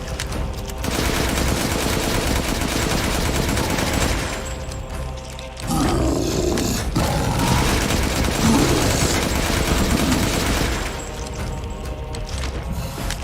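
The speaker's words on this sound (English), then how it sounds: "you need to keep like shooting his shins" Rapid bursts of gunfire from Resident Evil 8 blast almost continuously at a boss's shins, loud and near, with a short pause around the middle and no talking.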